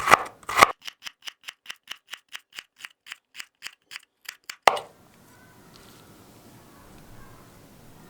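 Knife cutting thin potato slices on a board, a fast even run of about a dozen crisp close taps, then a sharper clack and quiet rustling.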